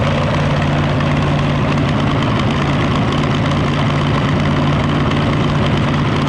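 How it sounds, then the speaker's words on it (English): A tractor pulling a harvester through an oat field drones loudly and steadily, its engine a constant low rumble with no breaks and no voices over it. "The tractor will be pulling it."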